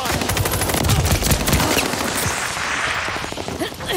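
Rapid machine-gun fire from Call of Duty Vanguard, a loud and close stream of shots in fast bursts with louder blasts mixed in, fading toward the end.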